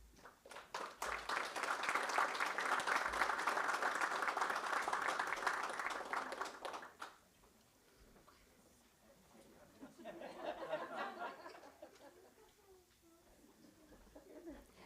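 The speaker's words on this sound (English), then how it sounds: "let's give her a round of applause for completing as well" Applause at a board meeting, a dense burst of clapping from a room of people lasting about seven seconds, then fading, followed by a second, quieter round of clapping.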